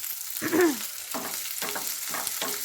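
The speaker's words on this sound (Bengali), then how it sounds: "এবার কেটে রাখা পেঁয়াজ কুচিগুলো তেলের মধ্যে দিয়ে দিলাম" Chopped onions hit hot oil spiced with whole cardamom, peppercorns, cinnamon and clove for a chicken dish, giving a close, bright sizzle that swells and fades in a few pulses as they are stirred.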